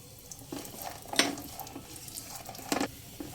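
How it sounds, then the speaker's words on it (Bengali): Gentle, low sizzle of nuts frying in a pan on a low flame, broken by a few scraping stirs and light clinks of a utensil. "লো ফ্লেমেই ভেজে নিতে হবে বাদামগুলো"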